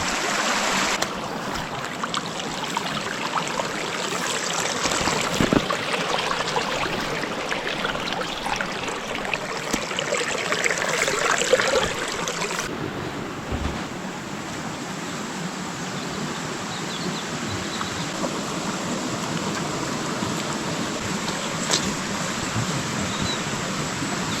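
A continuous rushing babble of a flowing mountain stream in the Beskid mountains fills the scene, steady and fairly close, with no talking over it.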